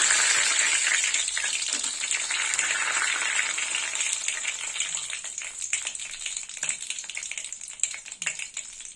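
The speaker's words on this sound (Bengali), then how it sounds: "তেল গরম হয়ে গেছে, এবার ফোড়ন দেবো। তো ফোড়নে নিয়েছি 2টো তেজপাতা, জিরে," Two bay leaves and cumin seeds hit hot oil for a tempering, sending up a loud, dense crackling sizzle that starts strong and gradually thins into scattered pops.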